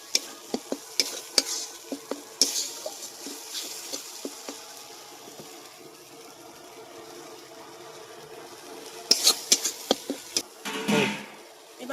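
Spice paste being stirred and fried in oil for a thin rohu fish curry, with a spoon clicking and scraping against the pan in bursts over a soft, steady sizzle, then a louder flurry of stirring near the end, with no talking.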